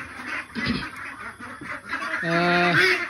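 Ducks on a duck farm in Assam, giving a few nearby nasal quacks and calls, with a louder drawn-out honking call near the end over a steady background hiss.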